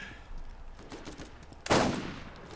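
Gunfire in the video game Borderlands, scattered faint shots followed by one sharp loud blast near the end, with no talk.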